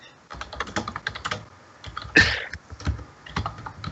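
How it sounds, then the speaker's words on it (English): Rapid clicking of computer keyboard keys being typed on during a game tournament stream, irregular bursts of close keystrokes with one louder clatter midway, no talking. "Sorry, I'm typing."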